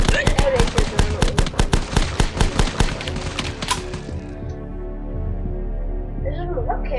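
Video game gunfire from The Last Stand: a fast run of loud, evenly spaced automatic shots, then a lingering rumbling tail as the firing stops.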